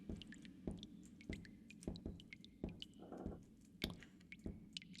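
A dripping water pump in a spooky video game, heard as a series of wet, squishy drips and plops landing at irregular intervals, fairly close, with a brief gurgling splash partway through and no talking.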